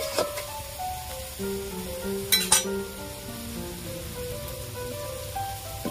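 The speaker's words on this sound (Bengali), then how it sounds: "রসুন আমি ভালো করে ভেজে নিয়েছি" Garlic sizzling steadily in hot oil in a pan, a continuous close crackle with a brief clink of a utensil partway through, no talking.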